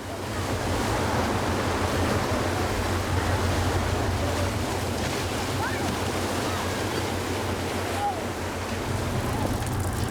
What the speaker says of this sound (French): Là, ce sont des vagues normales.